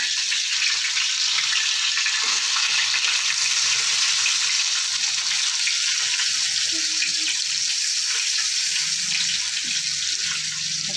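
Fish fries steadily in a pan of hot oil, an unbroken bright sizzle at even loudness throughout, close by, with faint low clatter underneath and no talk.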